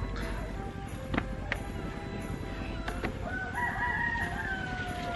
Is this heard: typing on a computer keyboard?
no